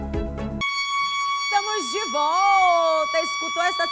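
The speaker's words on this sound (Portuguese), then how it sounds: "Escutou essa sirene, tu vem correndo, viu?" A siren wails after a brief burst of noise, a held high tone with a wavering, rising and falling pitch, clear and fairly close.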